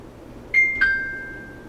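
Samsung Galaxy J3 Orbit ding-dong notification tone: two clean electronic chimes, the second slightly lower and ringing out with a long fading tail, over a faint background hum.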